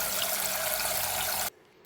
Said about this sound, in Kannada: ಇದನ್ನು ನೀರು ಹಾಕಿ ತೊಳ್ಕೊಂಡು ನೀರು ಹಾಕಿ ಒಂದು ಸ್ವಲ್ಪ ಕುದಿಯಕ್ಕೆ ಇಡ್ತೀನಂತ್ರಿ